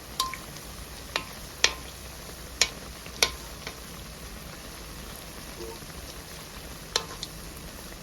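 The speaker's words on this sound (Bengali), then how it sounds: "এখন একটা চামচ দিয়ে চারপাশ থেকে তেল ছড়িয়ে দিব বড়ার গায়ের উপর।" Sweet ripe-mango fritters frying in hot oil as oil is spooned over them, a faint steady crackle with scattered sharp spatters and pops, no talking.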